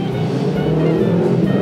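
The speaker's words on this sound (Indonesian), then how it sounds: "biarin datu motor lewat" A motorcycle passes by on a street outside a Padang-style rice eatery, a steady close engine drone running the whole moment without any talk.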